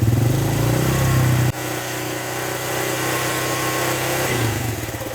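A motorcycle fitted with an MT8 stainless exhaust tip holds a loud, steady half-rev drone, recorded close to the tip, with a brief dip in pitch partway through.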